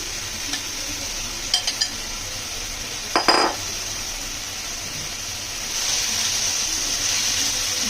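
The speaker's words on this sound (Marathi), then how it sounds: "तेल आता गरम झालंय, तर मी हे मशरूम पहिले फ्राय करून घेते." Mushrooms sizzling in hot oil in a pan for a paneer mushroom masala, a steady soft frying hiss with a few brief stirring clinks and scrapes, the sizzle swelling louder toward the end.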